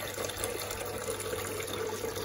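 Water runs steadily from a kitchen tap while dishes are washed up in a home sink, a continuous close gushing stream with no break.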